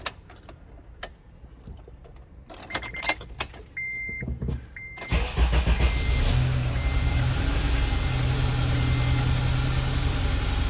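A Honda Element with a cylinder 1 misfire starts up after a few clicks and electronic chimes, then settles into a loud, close engine idle with a rough, uneven running sound, and no one speaks.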